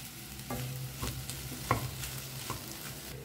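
A spoon stirs instant dosa batter being mixed with salt, giving soft repeated scraping and sloshing strokes at an uneven rhythm over a faint low hum, close and fairly quiet, with no voices.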